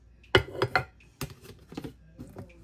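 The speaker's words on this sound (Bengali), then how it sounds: "এখন আমি সমস্ত দুধ আর ময়দা সবগুলি মিশিয়ে নিচ্ছি" A spoon clinks and scrapes against a bowl while milk powder and flour are mixed together for beet-coloured pink rasgulla, in a few close, uneven taps followed by softer stirring.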